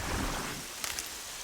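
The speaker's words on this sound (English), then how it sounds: "Oh my god, we have rain." Rain pours in the video game Horizon Zero Dawn, a dense, loud wash of hissing noise with a low rumble that eases slightly, plus a few faint clicks near the end.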